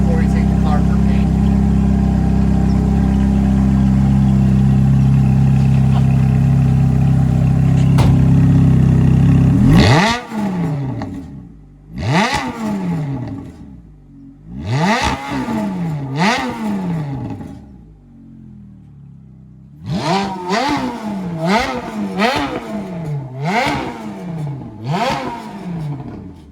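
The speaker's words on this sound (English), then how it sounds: "We're going to do a couple bit of revs so you can hear how it sounds stock" Stock Ferrari 430 with stock headers idles loudly, then blips its engine through a series of sharp revs, several single bursts followed by a quick cluster, each dropping back to idle, close and loud.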